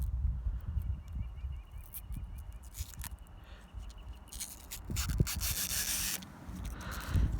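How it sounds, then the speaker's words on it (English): Protective screen film peeled off a Uniden SDS100 scanner gives close, steady rubbing and scraping with a louder crackly stretch near the end, and no talking. "It's got the screen cover protector on it. I'm gonna peel it off so that you guys can enjoy that ASMR."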